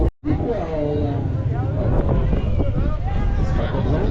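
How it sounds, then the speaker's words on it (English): Strong desert wind during a Marathon des Sables stage batters the microphone in a loud, continuous roar, with faint voices just audible beneath the rumble. "Last day, it's very windy."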